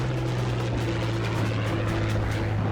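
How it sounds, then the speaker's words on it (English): P-51 Mustang fighter planes throttle up, giving a continuous loud, droning piston-engine roar with a steady low hum and rippling texture, sustained without break and no speech over it. "Meanwhile, Lieutenant Sandy Moats and his wingman throttle up and join the furball."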